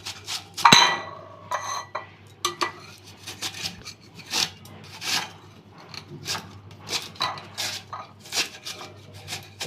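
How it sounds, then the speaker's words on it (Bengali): Peeled raw mangoes being grated on a hand grater: close, rhythmic rasping strokes repeating steadily, with a louder scrape and clink near the start, and no voices. "এখন গ্রেটারের সাহায্যে আমগুলি গ্রেট করে নিব।"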